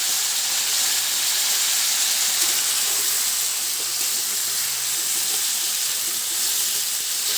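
Chilli paste frying in a pan for chilli chicken, a steady bright sizzle and hiss that holds evenly throughout, close and fairly loud with no talking.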